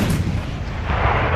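A King Tiger tank's cannon firing a shell in the Ardennes during WWII, a single loud, close boom with a rumbling sustained blast filling the whole moment.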